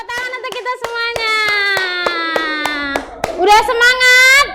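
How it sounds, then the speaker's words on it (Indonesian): Children in a classroom clap their hands in sharp, regular beats under their own chanting voices, then break into livelier, overlapping calls near the end. "Oke, tepuk tangan untuk kita semuanya."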